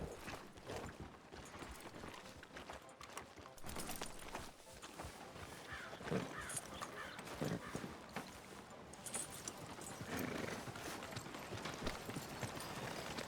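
Hooves of a horse clip-clop at a walking pace in Red Dead Redemption 2, steady and fairly close, amid faint town ambience with no talk.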